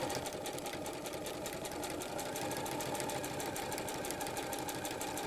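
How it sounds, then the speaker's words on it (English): A sewing machine runs steadily, sewing a straight stitch with metallic thread; a fast, even mechanical whir continues throughout, close and moderately quiet. "And I'm going to sew just a straight stitch,"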